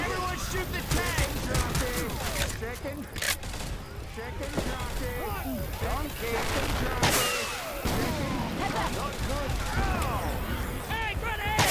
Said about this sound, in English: Everyone shoot the tank!